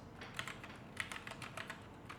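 Someone typing a web address on a computer keyboard, with quick, light key clicks in a steady, close patter and no voices.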